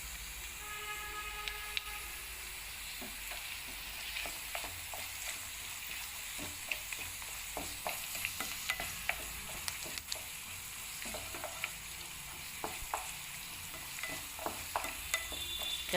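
Curry leaves frying in oil in a pan for mutton curry, a faint steady sizzle with scattered light crackles and spatters throughout, no talking.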